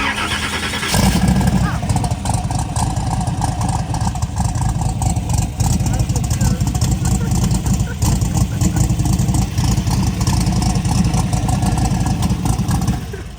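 A drag racing car engine is cranked and catches, then runs in a loud, steady, rough idle close by without pause.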